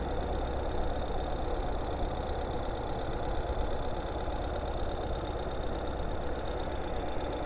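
A 2022 Ural Gear Up sidecar motorcycle in bronze satin runs at idle in third gear while rolling slowly around a building, giving a steady, even engine throb with a knocking pulse that stays constant throughout.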